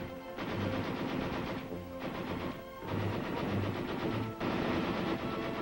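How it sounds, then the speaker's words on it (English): A light machine gun firing on a military training range: several sustained bursts of rapid, evenly spaced shots, each lasting a second or more with brief pauses between, heard fairly close and loud over a steady background. "Then we fired the record course with the light machine gun"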